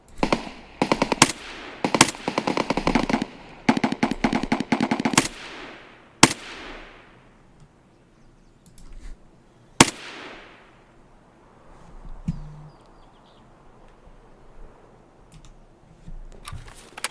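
Sniper rifle shots in a shooter game, with two sharp single cracks and long fading tails following a stretch of rapid clattering bursts, then quiet ambience.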